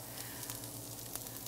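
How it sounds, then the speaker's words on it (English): Corn dry frying in a hot 12-inch skillet over high heat with no oil or water, a steady dense sizzle with faint ticks and pops throughout, close and continuous, no speech. "we're going to put that into a hot 12-inch skillet. So that's sitting over high heat, and we're going to do what's called dry frying."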